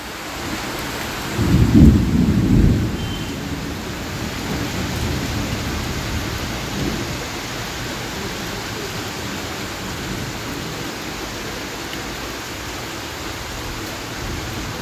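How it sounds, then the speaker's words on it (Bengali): Heavy rain pours steadily outside, a dense hiss that lasts throughout. A deep, loud roll of thunder rumbles early on and then fades back into the downpour. "বাইরে কিন্তু প্রচণ্ড পরিমাণ বৃষ্টি হচ্ছে আর মেঘও ডাকছে"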